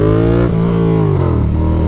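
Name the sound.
Yamaha FZ-07 motorcycle accelerating in first gear into a wheelie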